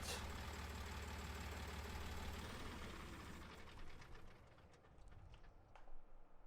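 A tractor engine idles in Farming Simulator 19. It gives a low, steady rumble that quiets partway through and ends with a few faint clicks.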